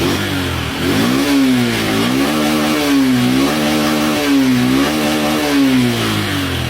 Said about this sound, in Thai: เดี๋ยวผมจะเทส สตาร์ทเครื่องให้ดูก่อนแล้วกัน